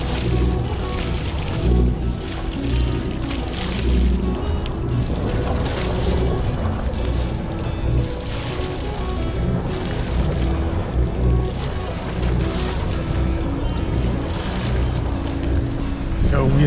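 A sailboat moves across open water near islands by a national park, with a constant rushing wash of water and wind buffeting the microphone, loud and continuous throughout.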